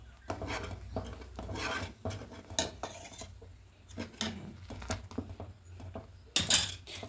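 A cup of powdered milk is stirred into thickened hot milk in a pot, with irregular close scraping and clinking strokes of a utensil against the metal, some quick and rasping, others softer.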